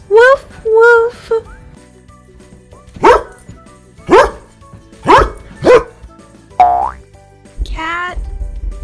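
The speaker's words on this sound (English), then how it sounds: "Dog says woof woof" A dog gives a series of sharp, close barks spaced about a second apart, with a few higher yelping whines mixed in.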